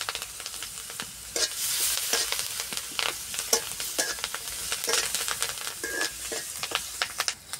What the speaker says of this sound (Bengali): তো মরিচ পেঁয়াজ ভাজা হয়ে গেছে